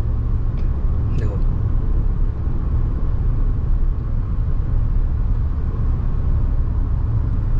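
A car cruises steadily in fifth gear on a smooth highway, and a constant low road and engine rumble fills the cabin without a break.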